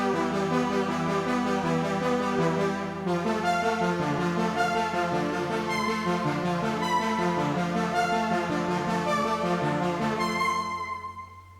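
A Korg Minilogue XD synthesizer plays a bright, chorused synthwave patch in the Juno style, sustained chords and a steady bass line moving through the whole passage, then fading out at the end, with no voices.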